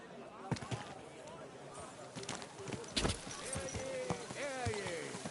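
Horse hooves clip-clop in an irregular walking rhythm in the medieval video game Kingdom Come Deliverance 2, moderately close, with a voice talking over them and some background town noise.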